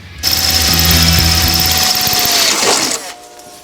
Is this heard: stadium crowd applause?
no